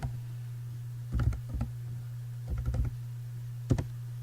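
Close, crisp keystrokes on a computer keyboard come in three short bursts of quick typing separated by pauses, over a steady low electrical hum, with no voices.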